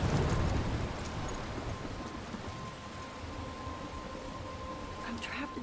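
Steady rain and stormy wind from the opening storm scene of the video game Life is Strange, a broadband wash that is loudest at the start and then holds evenly, with a faint tonal hum running underneath.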